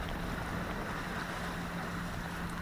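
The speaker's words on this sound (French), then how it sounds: "Là, vu qu'on va dans le sens des vagues, on surfe avec elle." A sailboat running downwind with the waves and surfing on swells of about two metres. A steady broad wash of water and wind noise fills the whole stretch at a low, distant-sounding level.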